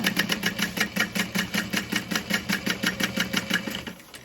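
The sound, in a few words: sewing machine stitching along the fabric's raw bottom edge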